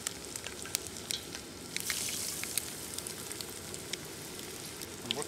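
Crappie fillets frying in hot oil in a pan give a steady, dense crackling sizzle with scattered pops, close and continuous, with no voices.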